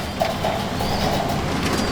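Madrasi pigeons in a loft coo softly in short, low calls close by, over a constant background hum.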